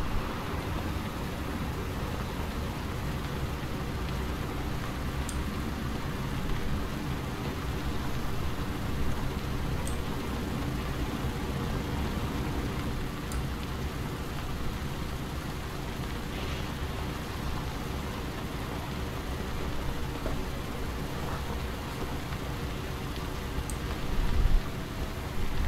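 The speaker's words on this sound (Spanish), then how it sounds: "Al menos hay un poco de cambio en el clima. Hay un poco de lluvia" Steady rain hisses as a continuous wash of noise across a War Thunder battlefield, even and moderately loud with no voices, and a faint thump near the end.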